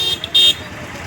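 Car horns toot in a roadside traffic jam near an accident scene, with two short honks and then a longer blast that stands out over steady road noise.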